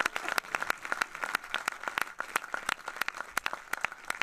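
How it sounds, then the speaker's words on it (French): Audience applause at a film festival award, a fairly small crowd clapping in a sparse, uneven patter of distinct claps indoors. "Voilà, elle est là. On va l'applaudir."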